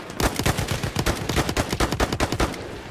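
Rapid automatic gunfire in Battlefield 1 multiplayer, a dense rhythmic string of loud close shots repeating steadily for nearly three seconds.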